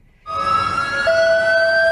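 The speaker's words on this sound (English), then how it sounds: "Across the islands, tsunami sirens blared, prompting panic in Paradise." Tsunami warning sirens blare across the Hawaiian islands, a loud steady wail that starts abruptly after a brief quiet moment and holds two sustained rising tones, with no talking.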